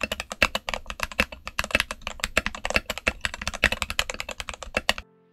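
Mechanical keyboard fitted with Gateron Milky Yellow switches and XDA keycaps on a modded Redragon board, typed on in a steady rapid stream of clacky keystrokes for about five seconds, close and alone.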